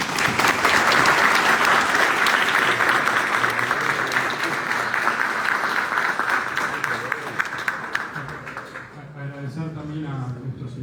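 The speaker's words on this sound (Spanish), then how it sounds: "les pido un fuerte aplauso para ellos." An audience at an indoor book presentation gives sustained applause, dense and loud at first, then thinning and fading toward the end as a voice starts speaking over the last clapping.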